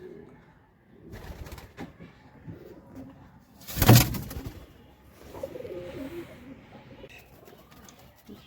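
Deshi golla pigeons coo softly in a loft, low, murmuring calls recurring throughout, with a loud flutter or knock near the middle.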